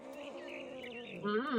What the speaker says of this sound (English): Angry cat noises.